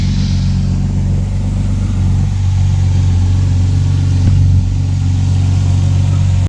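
A BMW E30 engine runs steadily close by, a loud, even mid-pitched drone with a low rumbling hum and a slight lift in revs, no voices over it.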